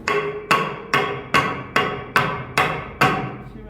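A hammer strikes a motor bearing on a Dongyang CV-40 elevator hoist about eight times, each blow a sharp metallic ring at an even pace, close and loud with no voices.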